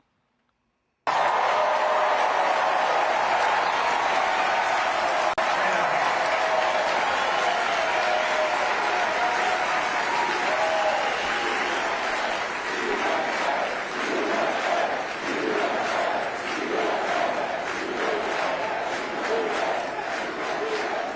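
An adoring crowd at the CPAC conservative gathering applauds and cheers for Trump, a dense continuous roar of clapping and shouting that starts abruptly after a moment of silence and holds loud for about twenty seconds.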